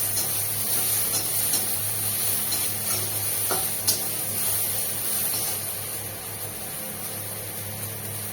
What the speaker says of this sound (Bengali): পেঁয়াজটাকে একটু দিয়ে দিলাম। এবার এটা একটু ভাজা ভাজা হবে